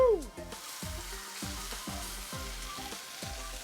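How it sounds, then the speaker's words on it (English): A seasoned two-pound chuck roast sears in a hot pan, giving a steady loud sizzle with crackling spatter throughout, close and continuous with no talk. "now we're gonna sear her."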